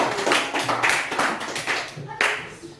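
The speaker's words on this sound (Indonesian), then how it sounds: "Beri tepuk tangan kepada Adik." Applause for a child who has just recited a patriotic poem, a few people clapping in an irregular, fairly close patter with some voices mixed in, lasting a few seconds.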